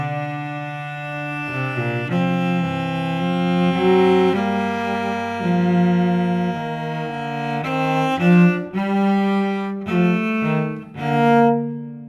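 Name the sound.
Quarenghi canon, augmentation in contrary motion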